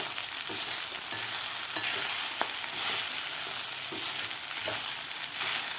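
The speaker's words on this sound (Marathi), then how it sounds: "आता साबुदाणासुद्धा आपल्याला ह्या तुपामध्ये 2 ते 3 मिनिट फ्राय करून घ्यायचं आहे." Sago pearls frying in ghee for sweet sabudana khichdi over medium heat, a steady low sizzle with light, scattered stirring taps.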